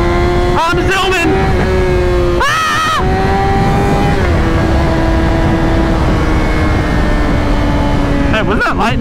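A Yamaha R6 sport motorcycle accelerates hard up close, its engine note climbing and dropping through quick gear shifts, with a brief burst of revving in the middle and wind rushing over the microphone.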